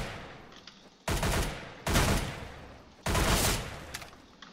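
Three loud gunshots in Roblox Arsenal ring out about a second apart. Each is a sharp, close blast followed by a decaying tail, with no speech.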